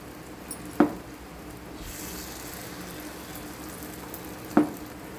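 Sweet paniyaram batter sizzles steadily in the wells of a hot paniyaram pan, a soft continuous frying hiss broken by two sharp metallic taps from a ladle.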